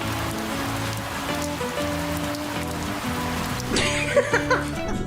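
Steady rain patters on a surface throughout, with a continuous musical bed underneath and a few louder, closer splashes near the end.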